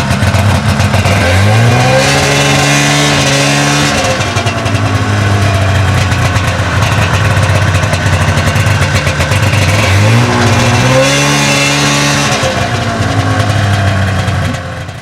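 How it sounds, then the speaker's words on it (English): A snowmobile engine on a tour training run rises from idle into loud revving twice as gas is applied, each surge climbing in pitch then settling back to a steady, close, rumbling drone. "Now to make the machine move forward, you have to give it some gas."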